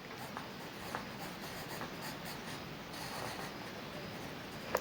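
Someone writes by hand in a quiet room, a soft continuous scratching of pen strokes with small taps, faint and close, with no speech.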